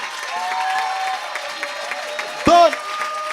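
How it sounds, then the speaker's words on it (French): Church congregation cheering and applauding for God, a crowd roar with clapping and whoops, one sharp shout rising out of it near the end. "Je veux que tu acclames encore Dieu très fort."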